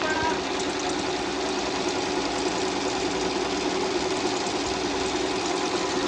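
Singer sewing machine running steadily, a continuous close mechanical whir and fast stitching hum throughout, with no pauses.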